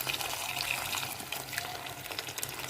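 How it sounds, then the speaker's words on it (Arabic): Water is poured into a cooking pot, a continuous light splashing and gushing that runs steadily at moderate level, fairly close, with no speech. "نضيف عليه ماء"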